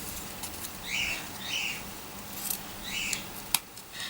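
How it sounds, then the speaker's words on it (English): Scissors snip through vintage linen while cutting out fabric moth wings, making several crisp close cuts at an uneven pace with quiet pauses between them. "So just cutting these wings out."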